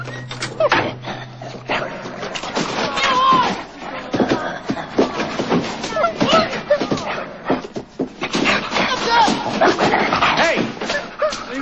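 A dog barks, yips and whimpers in rapid, busy bursts, loud and close, with voices mixed in now and then.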